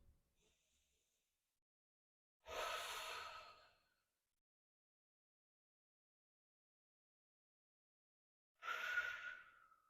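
Two slow, audible breaths during a yoga stretch for back pain, each lasting about a second and several seconds apart, close and soft, with near-silence between them.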